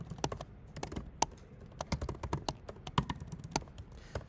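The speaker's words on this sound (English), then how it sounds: "I'm already tired of typing output statements" Rapid, irregular keystrokes on a computer keyboard while writing print output statements in code, close and crisp with uneven bursts and short pauses, no talking.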